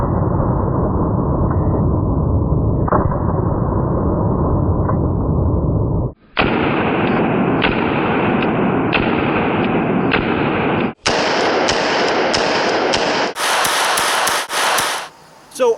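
Gunfire from a North American Arms Guardian .32 ACP pocket pistol at about 10 yards, heard as a dense, continuous loud barrage in separate blocks with brief gaps between them.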